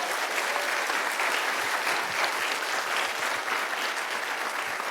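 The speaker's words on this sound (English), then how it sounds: "can we please give these students a round of applause?" Steady, sustained applause from an audience at a city commission meeting honoring students, many hands clapping evenly at a moderate distance with no talk over it.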